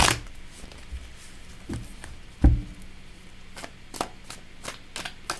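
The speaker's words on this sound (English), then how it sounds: "let me shuffle these one more time" A deck of tarot cards is shuffled by hand, quiet, close and soft, in short irregular riffles and taps with one firmer knock midway.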